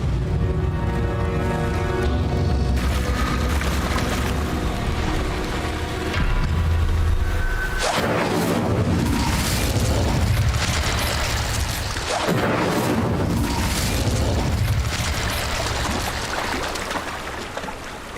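An Incendio fire spell cast in the Hogwarts Legacy video game: loud fiery bursts and booming whooshes erupt over a continuous dense game soundscape, with two strong blasts standing out partway through.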